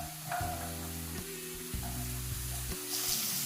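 Vegetables sizzle in a lightly oiled frying pan, a steady crackling fry with low utensil knocks and thumps recurring throughout, close and moderately loud, with no talking.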